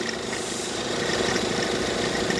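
A Tata Harrier engine with a failing alternator and bent pulley shaft runs with a steady, loud, close mechanical drone and rattle, with no clear rise in revs.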